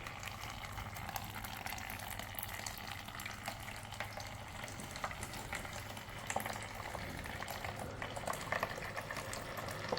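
A leaking Cuisinart K-cup coffee maker heats and boils water with a continuous bubbling, gurgling hiss over a low steady hum, moderately quiet and unbroken throughout.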